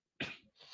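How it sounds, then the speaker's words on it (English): A single short, sharp cough bursts out, followed quickly by a softer second one, close by in a quiet room. "Sorry about the coughing."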